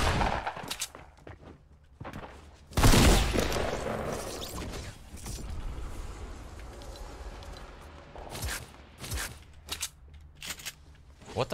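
Fortnite shotgun fire lands as a loud, close blast followed by scattered gunshots and clatter from other weapons, with a few more sharp reports near the end.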